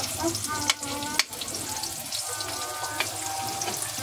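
Onions fry in a pan with a close, steady sizzle, interrupted by a couple of sharp knocks and clatters from the cookware.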